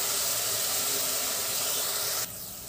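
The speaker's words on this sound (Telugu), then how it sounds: "ఆనియన్ సేగుతున్నాయి ఇప్పుడు" Onions frying with crystal salt in a pan for Andhra-style mutton curry, a loud steady close sizzle and hiss that drops abruptly to a softer sizzle near the end.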